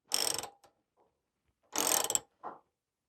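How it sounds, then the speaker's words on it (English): Hand crank ratchet lifting a chassis jig, giving two loud bursts of dense clicking about a second apart, each followed by a brief softer tick, close up with no talking. "as I start the crank on this, you can see it's slowly starting to move up"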